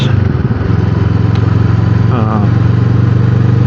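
Motorcycle engine running steadily after a downshift, a loud close low rumble with constant throbbing, under a rider's talking voice.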